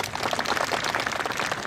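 Audience at a Zero fighter engine-start viewing event at the Tokorozawa aviation museum applauding a guest, steady dense clapping from a crowd, brief and fairly loud, with no talking over it.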